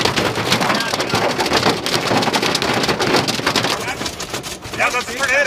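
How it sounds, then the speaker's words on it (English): Massive hail from a Lewistown supercell storm pounds down in a dense, loud, continuous clatter that sounds like heavy rain on a vehicle, with voices faintly underneath. "There is massive hail in this thing"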